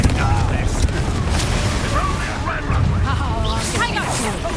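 Heavy, continuous booming blasts and crackling fire from Confringo and Incendio spell combat in the Hogwarts Legacy video game, loud and close, with voices talking over the din.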